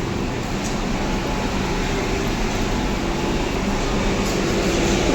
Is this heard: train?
yes